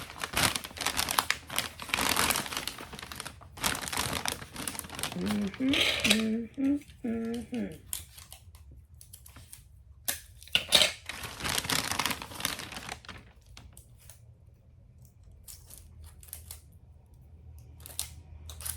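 Christmas wrapping paper crinkles and rustles as it is cut with scissors and taped down, with snips, tape pulls and paper handling sounds in a quiet indoor room.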